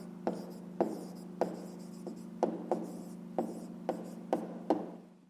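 A pen writing a numeric answer by hand for a fifth-grade maths exercise, close scratchy strokes in a quick series of separate taps and scrapes over a steady low hum.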